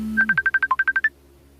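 A mobile phone rings with a rapid series of about ten bright, even electronic beeps at a steady rhythm, loud and close, cutting off abruptly after about a second.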